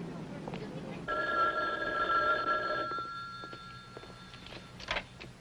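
A telephone rings on a call. One clear electronic ring lasts about two seconds over a quiet, muffled background, followed by some faint shuffling and a brief knock.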